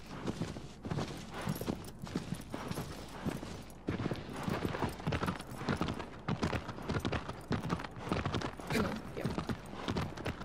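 Steady clip-clop of horse hooves while riding in the video game Shadow of the Colossus, a brisk even rhythm of close hoofbeats throughout, with a single brief spoken word.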